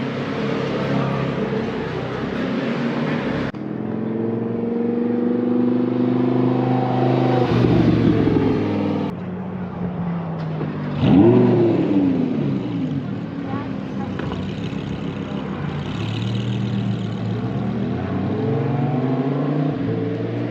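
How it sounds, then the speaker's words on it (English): A Lamborghini Huracan accelerates hard around a race track, its engine howling up through the revs in repeated rising sweeps broken by sharp gear shifts, loud and close throughout. "I'm gonna give a ride today in a Lamborghini Huracan"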